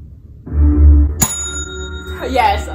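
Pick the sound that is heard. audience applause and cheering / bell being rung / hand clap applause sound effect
bell being rung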